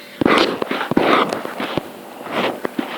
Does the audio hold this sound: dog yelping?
no